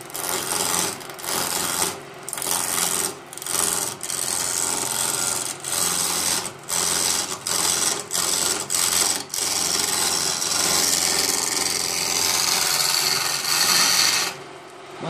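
A lathe tool turns a red oak walking staff, giving a close, rough scraping and rasping that cuts in and out in short bursts with brief pauses, then settles into a longer continuous stretch.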